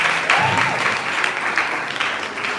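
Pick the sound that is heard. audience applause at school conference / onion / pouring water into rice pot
audience applause at school conference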